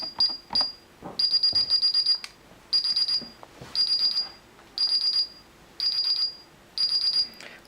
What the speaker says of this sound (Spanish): vamos a hacer otro salto de alarma